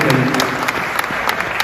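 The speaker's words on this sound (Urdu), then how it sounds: "انہیں زوردار تالیاں اس کے لیے بجنی چاہیے" An audience at a mushaira poetry gathering applauds loudly and steadily, dense clapping filling the whole moment.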